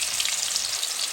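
Onion hitting hot oil for a Bengali chicken and potato curry, a loud, dense hissing sizzle that stays steady with no talk.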